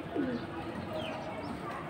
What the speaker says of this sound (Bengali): ও কিন্তু এতক্ষণ ডাকতেছিল ভিতরে।